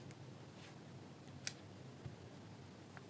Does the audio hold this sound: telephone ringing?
no